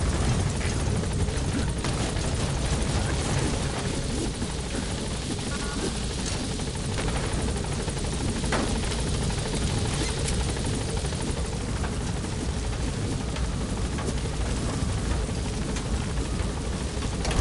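A video game helicopter lands at a landing zone and lifts off again, its loud rotor drone thumping steadily and without a break throughout.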